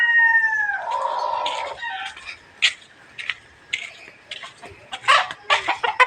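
Chicken clucking at a rural Filipino home in dim evening light, a few short clucks and fowl calls scattered over several seconds, moderately near, with some background noise and faint sounds of other birds.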